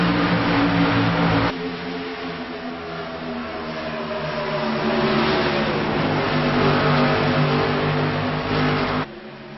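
Race cars roar as they accelerate along an oval track after a restart, a loud sustained engine drone that swells as the field passes and stays dense and close throughout, with no voices.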